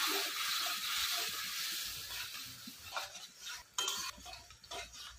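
Ground spice paste mixed with water fries in a pan, making a soft, hissing sizzle while a utensil stirs and scrapes. The sound is fairly quiet and close, with a few clinks toward the end and no voices.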